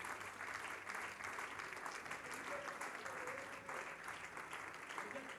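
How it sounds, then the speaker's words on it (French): A church congregation applauding together, a dense, steady wash of clapping that holds at even strength throughout, fairly distant and without pauses. "On peut commencer à acclamer pour eux."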